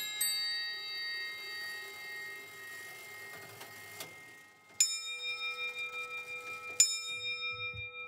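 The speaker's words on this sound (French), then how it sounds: "On entend un carillon, puis tout disparaît et l'heure sonne." A carillon clock in the palace of Versailles chimes softly, then strikes the hour with several clear, ringing bell tones spaced about two seconds apart, each decaying into a long shimmering hum.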